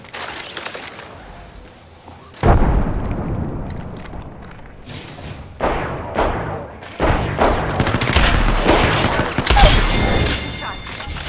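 Frag grenade blast and gunfire in the battle royale game Apex Legends: a sudden loud burst after a quieter start, followed by repeated bursts of shots and thumps, with a voice talking faintly early on.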